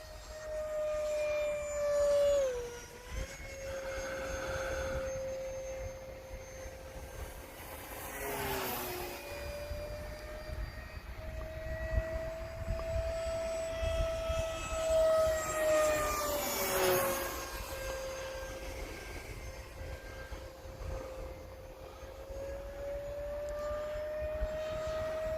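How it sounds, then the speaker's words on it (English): A fast radio-controlled model jet screams overhead, its steady high whine holding and bending in pitch as it passes, swelling twice as it flies by over a faint outdoor background. "He's got her screaming. It's a fast jet for sure."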